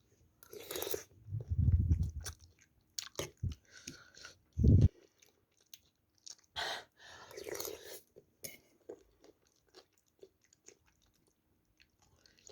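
Someone eats curry with green onion kimchi close to the mic, giving crunchy bites and wet chewing in short bursts between quiet pauses, with faint cutlery clinks.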